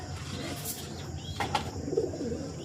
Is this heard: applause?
no